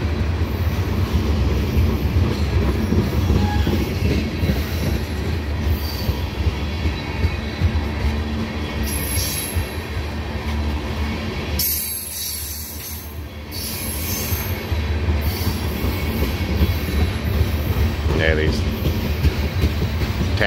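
A freight train made up of tank cars rolls past on an old main line, a steady loud rumble with wheel noise running throughout, dipping briefly partway through before the passing resumes.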